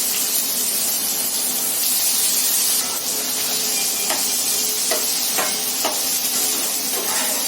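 Two large chopped onions sauté in a hot pan with whole cardamom and bay leaves for a dhaba-style paneer masala, giving a steady broad sizzle with a few sharp spatula taps, close and continuous.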